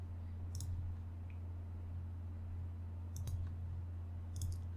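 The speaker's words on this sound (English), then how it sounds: "Apologies for the mouse clicks." A computer mouse clicks three times, sharp and close, spaced a couple of seconds apart over a steady low electrical hum.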